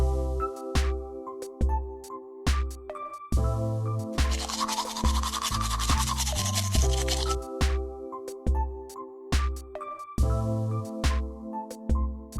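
Toothbrushing in the Toca Boca video game, with a soft scrubbing burst in the middle set against bright, plinking background music with steady thumping notes throughout.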